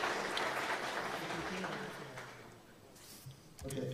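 Applause from a conference audience follows a talk, a fairly quiet, even patter of clapping that thins out toward the end, with some faint voices and noise mixed in.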